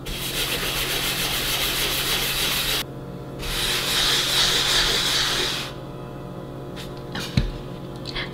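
Steady scraping rub of a carnauba and beeswax blend being worked by hand into a faux concrete countertop, in long sustained passes with a short pause between them, fairly close and clear.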